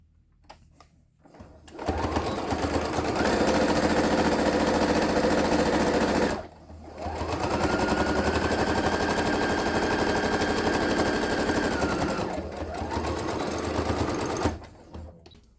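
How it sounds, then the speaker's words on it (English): A sewing machine stitches quilted fabric with a loud, close, rapid whirring stitch, running steadily for several seconds, pausing briefly, then starting again for a longer run before stopping. "I'm able to really help it go through my machine"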